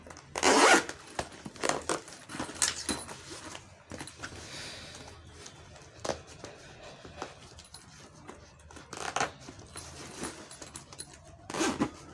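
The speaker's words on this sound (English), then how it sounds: "So now we are going to zip our bag" Zipper on a sewn Flex Wave bag being zipped closed, a series of short rasping pulls spread out with pauses between them, close and clear with no talking.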